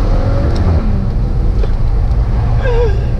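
A Maserati Ghibli S GranSport four-door sedan's engine rumbles close and loud while driving, with a steady low drone and a brief rising whine near the end.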